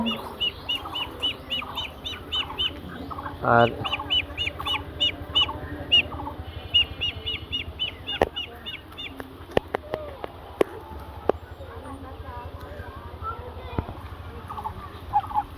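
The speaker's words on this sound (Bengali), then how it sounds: "এটা চীনা হাঁসের মা, আর এটা হচ্ছে চীনা হাঁসের বাচ্চা।" Chinese goose mother with goslings at a village pond, giving repeated honking and gobbling calls in rhythmic bursts, with scattered sharp clicks and knocks, close and moderately loud, and a brief spoken word.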